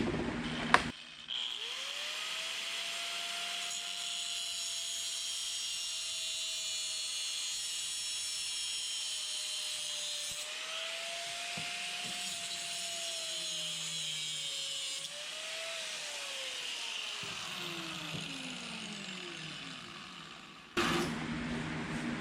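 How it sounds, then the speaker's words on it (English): Power tool steadily cutting through a steel bolt to remove its thread and head, a continuous bright whine with a wavering tone that drops as the cut finishes, then stops abruptly. "we've cut the thread and the head off of the bolt"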